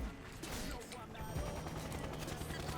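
Gunfire from the shooter game XSHOT, shooting at a mummy from behind on a playground stage, a dense burst of rapid shots and impacts under game music and effects.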